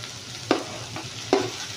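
Tomatoes frying in a pan for a Bombay-style chutney curry, a soft steady sizzle with two quick scraping stirs, heard up close without any voices.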